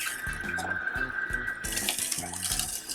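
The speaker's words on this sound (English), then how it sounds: "So let's go ahead and start our juicer and start juicing." A Kuvings whole slow juicer runs while juicing celery, with a steady motor whine and repeated low grinding pulses from the auger crushing stalks, close and continuous.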